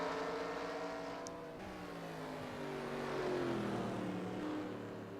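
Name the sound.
race cars battling in racing video game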